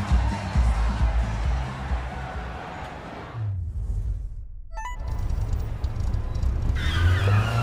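Car engine noise and tire skids from Need for Speed Heat with a BMW E30, with a brief near-silent gap midway before the engine and squealing resume.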